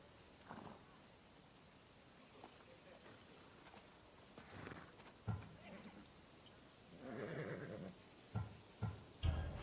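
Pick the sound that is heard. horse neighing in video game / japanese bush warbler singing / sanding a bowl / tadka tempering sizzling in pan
horse neighing in video game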